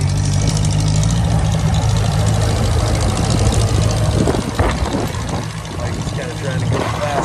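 A 1959 J I Case 311B tractor driving down the road at speed, its engine a steady low rumble near at hand that thins out in the second half under wind and handling noise.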